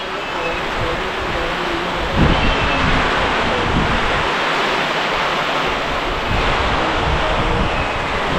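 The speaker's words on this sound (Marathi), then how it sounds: "हवा आलं सोबत जोरदार" Strong wind blows through heavy monsoon rain in a Konkan village. A loud, continuous roar and rush carries on throughout, with a few gust bumps and no clear speech.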